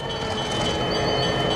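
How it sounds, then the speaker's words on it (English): A Burlington Northern F9 locomotive with A and B units rumbles at the Illinois Railway Museum, a loud steady roar with rail noise and no talk. "This is a Burlington Northern F9, which has an A and B locomotive."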